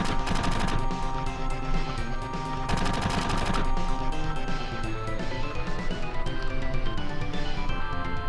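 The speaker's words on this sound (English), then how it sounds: "we are escaping the Shinra building, and Barrett's being all cool and stuff, shooting up everyone" Dense bursts of gunfire fill a Final Fantasy VII cutscene during the escape from the Shinra building, with rapid shots layered over music and effects. They stay loud and continuous throughout.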